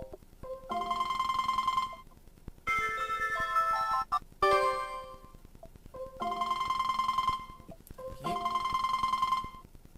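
A phone ringtone plays through a Ford Sync car multimedia system as repeated melodic bursts of bright tones, separated by short gaps, at moderate level with no talking.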